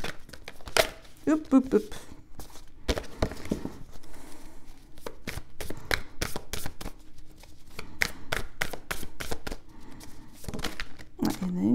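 Oracle cards are shuffled in rapid, crisp bursts of riffling and slapping that run throughout, close and fairly loud, while a voice briefly calls out over them.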